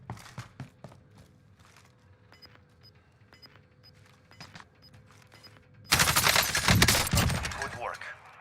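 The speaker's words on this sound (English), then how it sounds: "I heard shooting" Gunfire in a battle royale video game: a few scattered faint shots give way to a loud, dense burst of rapid fire over the last few seconds.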